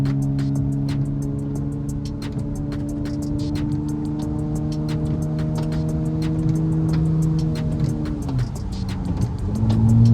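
Dodge Hellcat accelerating onto a freeway from inside the car, a deep engine drone climbing in pitch through the gears, with a shift and louder surge near the end.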